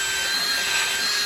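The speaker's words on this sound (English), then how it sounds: "we use a cordless drill, and we just pop it in there like that" Cordless drill spinning a rotary brush to buff wax on wood, a steady loud whirring drone that holds even throughout.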